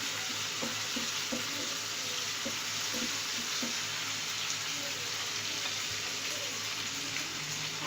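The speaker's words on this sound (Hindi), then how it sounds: "अब हम इसके अंदर टमाटर ऐड करेंगे। टमाटर को भी हल्का सा कुक करना है" Tomatoes fry in hot oil in a pan for dal mash, giving a steady, dense sizzle with a few soft knocks of stirring, close and on its own.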